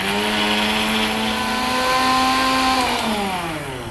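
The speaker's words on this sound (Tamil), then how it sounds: "இப்போ ஒவ்வொன்றா போட்டு அரைக்கணும் இல்லையா?" A mixer grinder whirs steadily as it grinds roasted spices for masala, a loud continuous motor whine holding one pitch and then dropping slightly near the end.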